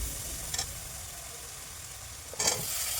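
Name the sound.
pumpkin frying and sizzling in a pan with panch phoron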